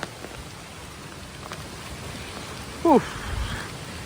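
Heavy rain in the Malnad region near Koppa, a faint, steady hiss of falling water with a brief murmur of a voice partway through.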